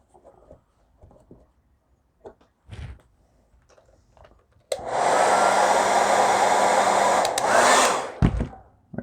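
A heat blower roars on in one steady burst for about three and a half seconds while warming a decal on an RC car, loud and close, preceded by faint handling clicks and taps.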